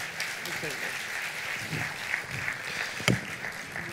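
A church-style audience at a Christian political gathering gives steady applause as a background wash, with a voice speaking over it and one sharp knock near the end.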